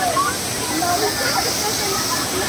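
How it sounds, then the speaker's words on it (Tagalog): A giant tipping bucket at a Dubai Atlantis waterpark fills and dumps its load, heard as a steady, loud wash of splashing, rushing water with broad hiss. People talk underneath the roar. "Pag napupuno siya, biglang buhos."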